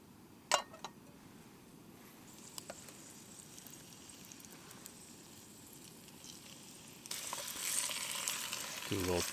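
Fries sizzle and crackle in a pan on a camp stove outdoors in cold mountain weather, a steady soft frying hiss with occasional clicks and clatter, growing louder and busier toward the end as the potatoes are moved around.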